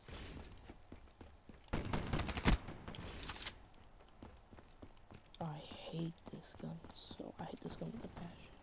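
Gunfire in the shooter Gun Game: a couple of loud, dense bursts of rapid shots followed by lighter scattered shots, with a faint voice murmuring in the later part.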